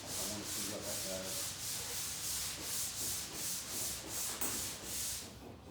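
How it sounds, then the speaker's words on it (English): Steady rhythmic sanding of carbon fiber, a coarse rasping scrape repeating back and forth in even strokes, close up, with no voices. "you can see that I am sanding into the carbon fiber"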